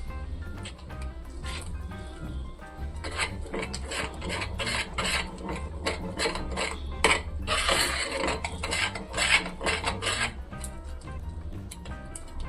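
Dosa batter being stirred by hand with salt in a metal pot, giving a continuous wet scraping and rasping with rhythmic strokes, close and fairly loud throughout, no talking.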